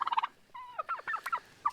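A farm turkey gobbles close by, a loud rapid warbling burst at the start and again at the end, with a wavering call in between.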